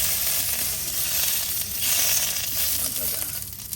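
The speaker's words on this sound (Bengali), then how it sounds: "আমি কিন্তু শুকনা খোলায় তেল ছাড়া আমি ভাজা নিচ্ছি টমেটোগুলা।" Tomatoes dry-frying in a pan without oil, a loud continuous sizzling hiss close up, steady throughout with slight swells and no talking.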